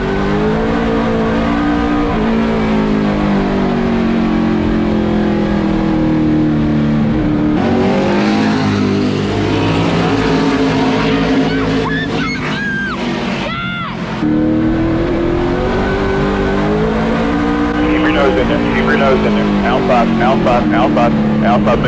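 Vintage NASCAR Monte Carlo race car engines roar steadily in a racing game, with pitch rising and falling through the laps and a brief dip midway, while voices talk over the continuous engine drone.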